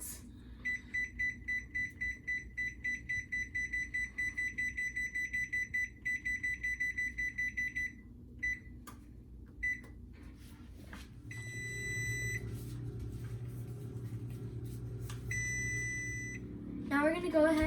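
An electronic kitchen timer for baking cake pops in an oven beeps in a fast repeated train for several seconds, then gives more beeps over a louder hum of kitchen noise. The beeping is fairly faint.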